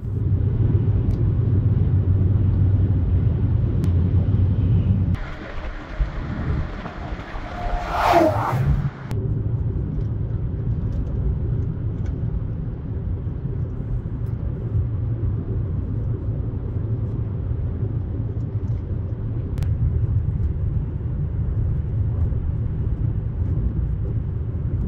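Adventure mobile vehicle rolling downhill in the Rocky Mountains in winter, a steady low road rumble throughout with a brief louder disturbance partway through, no talking.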